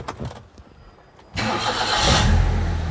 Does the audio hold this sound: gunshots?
no